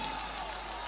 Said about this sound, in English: the home crowd is getting very excited